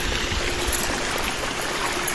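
Water running steadily from an outdoor shower by the pool at a private resort, a constant close hiss and splash with no pauses.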